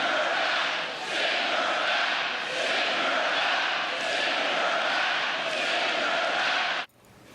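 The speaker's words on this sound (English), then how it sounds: "a haunting chant of "Send her back."" A large political rally crowd chants "Send her back" in loud, rhythmic unison, the dense roar of many voices rising and falling in repeated waves before cutting off abruptly.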